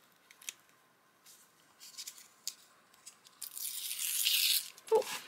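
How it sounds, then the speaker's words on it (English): Paper torn by hand while crafting a mosaic journal page with a glue stick, heard as a few faint crinkles followed by a louder, sustained ripping burst near the end, with no talking. "And I'm going to tear this."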